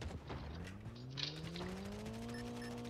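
An in-game car engine in Call of Duty Mobile revs and rises in pitch as the vehicle drives past at a distance, a steady droning hum heard on its own for a few seconds.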